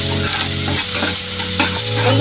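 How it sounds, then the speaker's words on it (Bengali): Chopped onion frying with garam masala in a pan for a fish-head curry crackles in a loud, close, continuous sizzle while a utensil stirs and scrapes through it, with no talking. "গরম মশলাগুলো একটু ভাজা ভাজা করে নিয়ে এর মধ্যে দেবো পেঁয়াজ কুচি"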